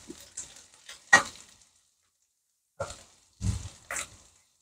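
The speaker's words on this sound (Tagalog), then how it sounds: "Dinagdagan natin ng konting oil para ma-fried ang ating isda." Small fish frying in a little added oil, heard as a few separated sizzling, spattering bursts with quiet gaps between them, close and moderately loud, with no talking.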